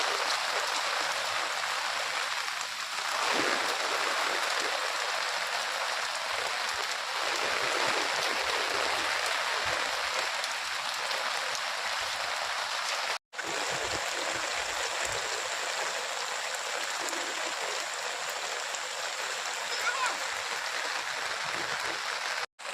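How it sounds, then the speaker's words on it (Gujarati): Fast-flowing rainwater rushes steadily and loudly through a narrow canal during heavy rain, a continuous broadband roar with one brief dropout partway through. "અહીંયા નાની નહેર કેટલું ફાસ્ટ પાણી જાય છે"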